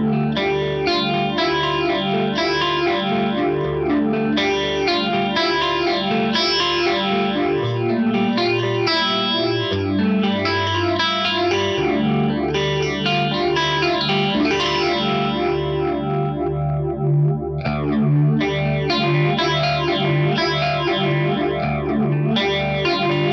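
Electric guitar played through a phaser pedal, sustained chords and riffs with a sweeping, swirling modulation, continuous and close throughout with no talking.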